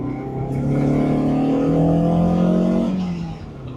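A 1972 Toyota Celica comes around a turn, its engine droning and rising in pitch as the throttle opens, then easing off near the end. The engine is fairly loud and is heard alone, with no voices.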